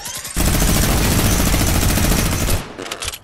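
A Fortnite minigun fires one sustained, very loud burst of rapid rounds lasting about two seconds, starting abruptly and cutting off just as suddenly, followed by a few fainter scattered shots.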